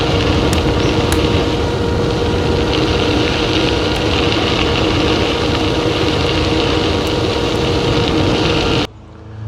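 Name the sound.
rear 750-watt e-bike hub motor running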